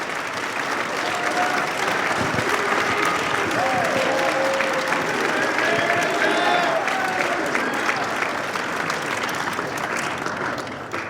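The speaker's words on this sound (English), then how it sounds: "So how about one more round of applause for 3 outstanding young people." A school audience at a National Signing Day event applauds three student athletes, sustaining dense, loud clapping with a few faint cheers throughout.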